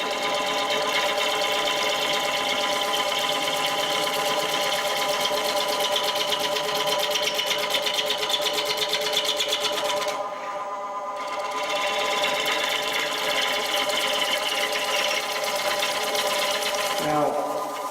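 A gouge makes a pole cut on a spinning wood lathe, giving a steady buzzing chatter that runs continuously, breaks off briefly midway, then resumes at the same level.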